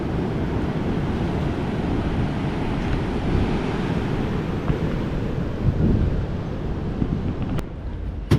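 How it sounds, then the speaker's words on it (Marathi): Monsoon sea surf at Ganpatipule beach in Ratnagiri, Konkan, makes a constant heavy roar with wind buffeting the microphone. The wash is dense, loud and unbroken, and no voices are heard. "समुद्राच्या लाटा भरपूर आहेत"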